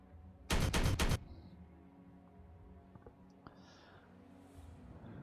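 Burst of rapid gunfire in the Warhammer 40K Regicide video game, a loud short volley of several close shots, followed by quieter game clicks and ambient tones.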